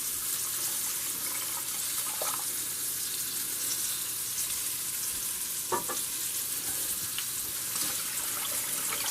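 Water pours into a pot of beef broth for an old-fashioned pot roast, a continuous close hiss with a few brief splashy bursts and no talk.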